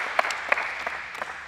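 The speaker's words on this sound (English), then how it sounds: "y'all give him a loud round of applause" Short burst of applause for a speaker at a basketball camp event, scattered claps from a modest crowd with a few sharper nearby hand claps standing out.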